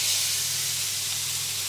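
A very hot griddle pan on a hob at maximum setting 9 gives off a steady, loud hiss of steam that fills the whole stretch without a break, and no one speaks.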